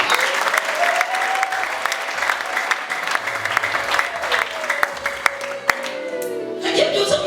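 A church congregation claps and applauds in praise of God through a sermon, giving steady, dense clapping that fills the whole stretch, with a voice heard above it.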